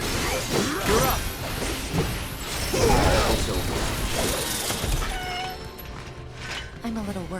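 Kittens meowing in the video game Final Fantasy VII Rebirth, several mews mixed with mechanical clanks and crashes, people talking alongside.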